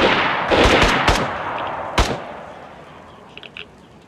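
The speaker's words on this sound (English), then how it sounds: "They're shooting at me." Sharp gunshots crack in a video game firefight, a few loud bursts early on followed by fainter distant shots trailing off, with no talk over them.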